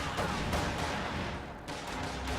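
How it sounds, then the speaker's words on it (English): Flamethrower blasting in a team shooter match, a dense continuous roaring whoosh of fire that fills the whole clip at steady loudness, with crackling bursts layered over it. "Pops a flamethrower."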